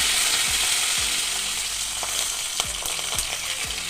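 Mustard seeds and curry leaves crackle and sizzle in hot oil for upma, a bright continuous frying hiss with repeated small pops and a few utensil clicks, close and fairly loud.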